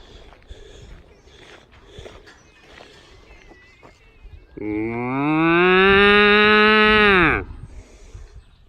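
Cows mooing in a field near calves: one long, loud, drawn-out moo rises and holds for a few seconds near the microphone, after quieter outdoor background with faint voices.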